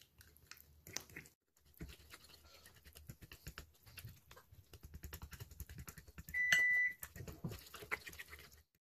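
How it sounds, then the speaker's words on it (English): Grandma's whisk beats brownie batter in a bowl, a quiet run of quick, soft tapping and scraping strokes with a brief electronic tone partway through. "And we mix, still using grandma's whisk."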